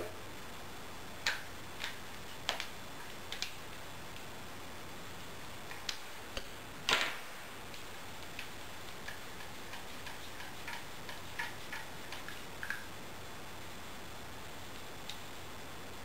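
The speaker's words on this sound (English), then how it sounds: "take a wrench or some pliers and unscrew this from the body" A part being unscrewed from a Nerve LPR paintball regulator body with a wrench or pliers: faint, sparse metallic ticks and clicks at irregular intervals, one louder scrape near the middle, against quiet background hiss.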